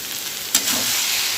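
Taro leaves cooking down in a pan, a steady hiss of frying with a short stir or scrape midway, close and continuous.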